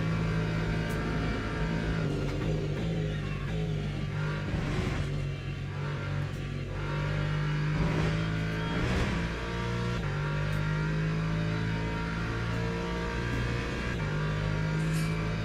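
A McLaren race car engine in a racing video game, set at Daytona and Laguna, drones steadily at high revs throughout, with gear shifts and a rising and falling engine note but no talk.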